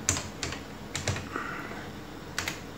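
Keys clatter on an Acorn Archimedes A3000 computer keyboard as commands are entered, a short run of separate clicks with gaps between, close and fairly quiet.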